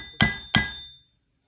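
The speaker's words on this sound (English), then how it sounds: "I'm going to take a real prick punch." A steel prick punch is struck twice with a hammer on a metal engine cylinder head, two sharp ringing metallic taps in quick succession, close and loud, with a bright tone that lingers briefly before fading to silence.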